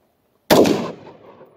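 A single sharp AR rifle gunshot fired outdoors at a small wooden keg target, loud and close, breaking from silence with a quick decaying echo tail.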